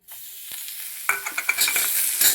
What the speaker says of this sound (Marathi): आता हे तव्यावर आपण सगळं तळून घेणार आहे.